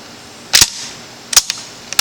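An East German AKM rifle has its action worked while being cleared: a few sharp metallic clacks, two loud and close with a couple of lighter clicks after, in an otherwise quiet room with no talking.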